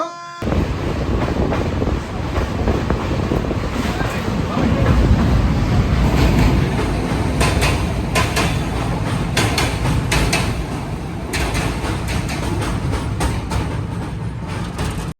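The Visakhapatnam to Kollam express passenger train rumbles along steadily with rattling clatter and brief sharp metallic bursts, mixed with a windy rushing roar throughout.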